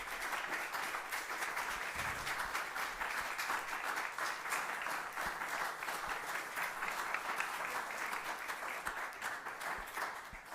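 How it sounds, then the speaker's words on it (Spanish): An audience at a lecture on Napoleon's bicentenary applauds steadily, a dense, even wash of many hands clapping that lasts the whole clip at moderate distance. "Gracias por el aplauso."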